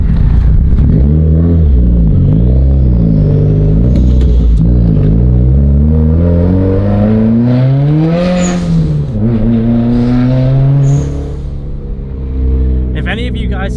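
A Subaru WRX creeps through stop-and-go traffic on a drive around the block, its engine humming and rising in pitch as it pulls away from stops and then easing off again, steady and close throughout.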